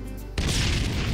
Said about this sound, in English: That was a rip snorter of an explosion, eh, mate?